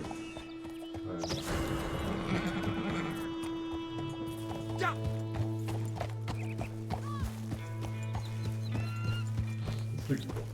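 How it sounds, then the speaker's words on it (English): A horse neighing and trotting hooves in The Witcher 3 video game, a loud whinny at the start followed by rhythmic clip-clops, with someone talking over the game sounds. "All my horses are called Roach"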